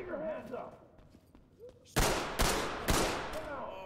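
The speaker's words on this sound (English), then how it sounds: "Bullets flew through the air" Heavy gunfire in the tactical shooter Ready or Not during a modded FBI HRT hospital raid: four loud, close bursts crack out in quick succession after a quiet stretch with faint low voices.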